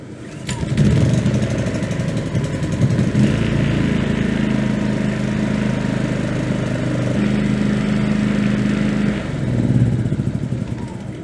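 A gasoline generator sputters to life on the second pull of its recoil starter, then runs at a steady, loud, slightly uneven chug close by with no voices over it.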